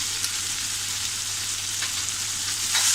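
Ginger-garlic paste sautéing in a pan, a steady close sizzle and hiss of frying that holds even throughout with no voices.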